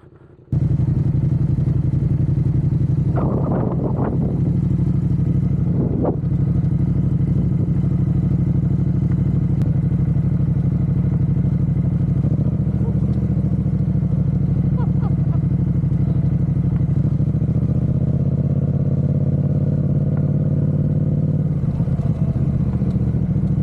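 A Yamaha MT-07 motorcycle engine idles close by with a steady, deep throb, rising in a couple of throttle blips and a longer, gentle rev toward the end.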